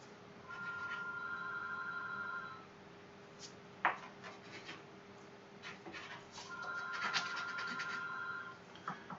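An indoor telephone rings in two separate bursts of repeated electronic trills, a few seconds apart, heard at moderate distance in a quiet room with faint scratching and shuffling between the rings.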